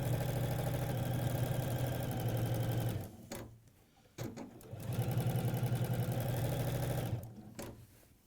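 A sewing machine stitches a shirt seam in fast, buzzing runs, stopping briefly twice for adjustments before starting up again, loud and close.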